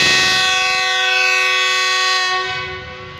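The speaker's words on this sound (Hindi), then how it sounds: "बहुत ही पावरफुल हॉर्न।" Loud, sustained multi-tone horn of a GU 40 American diesel locomotive on a passing train near Kot Lakhpat Station, a chord of steady tones held for about three seconds before fading at the end.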